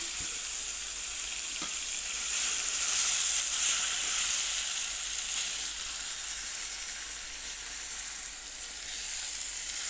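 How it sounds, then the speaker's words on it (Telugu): Marinated chicken for curry frying in a hot pan makes a dense, even sizzle with hiss and faint stirring scrapes, steady and close for the whole stretch, with no voices. "మ్యాగ్నేట్ చేసిన చికెన్ అయితే ఇప్పుడు వేసేద్దామండి."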